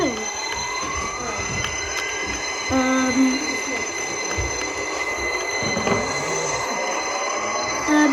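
A subway train on the London Underground Victoria line, in a train simulator, rumbles steadily along the rails with high metallic whines and squeals over the low roar, continuous and close.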